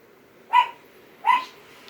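Hounds barking near the woods on the way up a mountain, two sharp separate barks about three quarters of a second apart, fairly close in an otherwise quiet setting.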